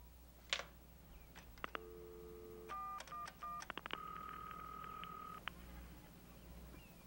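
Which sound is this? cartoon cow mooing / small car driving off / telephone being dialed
telephone being dialed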